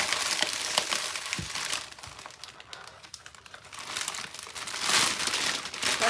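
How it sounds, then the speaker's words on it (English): Stuck tape being pulled loose gives off a steady run of crinkling, crackling rustle with sharp ticks, rising in loudness toward the end, close up and with no voices. "My tape has stuck."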